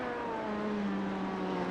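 A race car engine in a racing video game drones steadily with rising harmonic whine, loud and continuous throughout, no talking.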